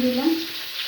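Brinjal pieces frying in a pan with turmeric and salt, a short soft sizzle with faint stirring and no talk.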